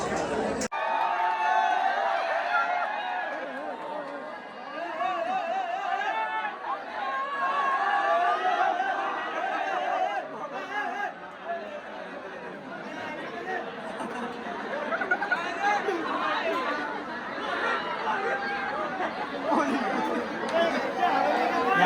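Dense crowd of devotees packed inside Grishneshwar temple on Mahashivaratri, a continuous loud babble of many overlapping voices with scattered louder calls, close and filling the space throughout.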